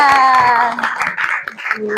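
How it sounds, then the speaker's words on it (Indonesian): A classroom of children clapping hands together in a few quick bursts, mixed with children's voices and a teacher talking over them. "Yuk kasih tepuk."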